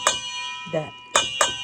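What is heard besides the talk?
clinking while getting chilies out of a container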